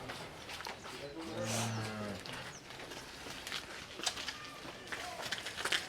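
A jet-black cow in Hanagavadi moos once, low and drawn out, over outdoor background noise with scattered rustles and knocks.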